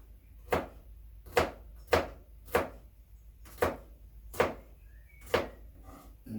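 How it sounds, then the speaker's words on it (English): A kitchen knife finely chopping garlic on a board: eight evenly spaced sharp chops, close and clear, with no talking. "Then garlic. And this I'm going to cut more fine."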